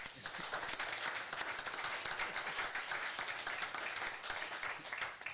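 An audience at a city council meeting applauds the police chief with steady, moderately faint clapping that stays even for about five seconds, with no one speaking over it.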